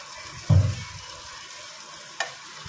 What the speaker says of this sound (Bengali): আলুটাকে দিয়ে ভালো করে কষিয়ে নেব